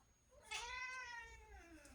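A black cat lets out one drawn-out, falling meow at close range, fairly soft, against a quiet indoor background.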